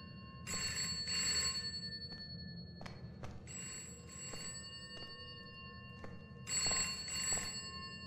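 A telephone rings in a video game, with repeated bursts of a bright electronic bell coming in pairs over a low background hum and a few soft thumps, moderately quiet.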